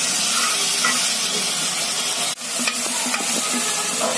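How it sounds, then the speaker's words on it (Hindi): Garlic fries in oil with already-browned onions in a pan, a continuous close sizzle and hiss broken by scraping stirs and light clinks of a spoon, with one brief dip partway through. "प्याज फ्राई हो चुकी है और अब मैं इसमें लहसुन डाल रही हूँ"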